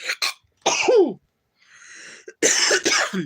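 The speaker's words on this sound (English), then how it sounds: "Gotta sneeze." Nearby sneezing with sharp bursts and a short breathy pause between them, loud and close, with no talking.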